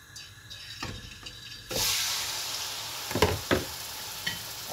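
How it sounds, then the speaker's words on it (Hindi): Chicken added into hot oil in a karahi for Afghani chicken, starting quietly and then bursting into a loud, steady close sizzle, with a few clattering knocks near the end and no talking. "अब इसमें डालती हूँ चिकन, थोड़े से इसको अच्छा से मैं ड्रेन कर लूँ।"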